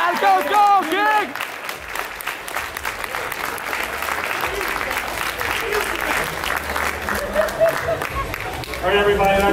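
A tournament crowd applauding the Top 8 players, sustained loud clapping and cheering from a large audience, with shouts and a voice speaking at the start and end.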